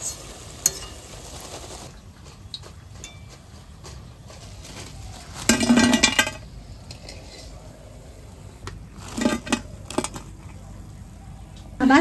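Utensils clink and scrape in a pan of frying pakoras as they are lifted out, over a steady background sizzle, with a few sharp metallic bursts.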